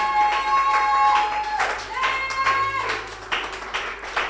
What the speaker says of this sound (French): Est-ce que tu peux donner une acclamation au Seigneur ce matin?